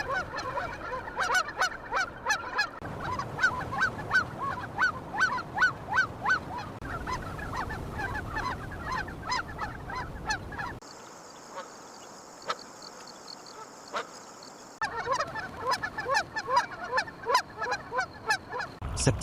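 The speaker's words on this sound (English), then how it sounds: "The family joins a staging flock of 300 geese." A staging flock of Canada geese honks loudly and repeatedly at close range, with overlapping calls in a busy rhythm that thins out briefly in the middle before building again.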